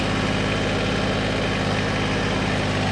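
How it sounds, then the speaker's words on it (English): A tractor engine idling beside a sawmill, a loud, steady low-pitched diesel chug running evenly with no speech. "I'll run the tractor and put the log on the mill."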